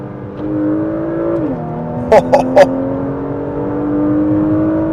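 A 2025 Porsche Macan GTS engine drones and climbs in pitch as it pulls under half throttle, heard from inside the cabin, with a brief burst of voices partway through.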